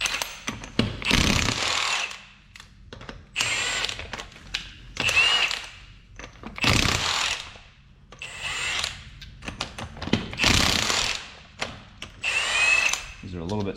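Wheel lug nuts come off a 2005 Ford Escape with a power tool: four loud, close bursts of whirring and rattling impact, each lasting about a second, separated by quieter pauses with faint background noise.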